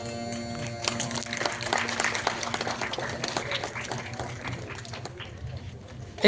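Audience applause follows a children's song at a small stage program, a moderate, continuous patter of clapping from a nearby crowd that fades toward the end, with faint voices underneath.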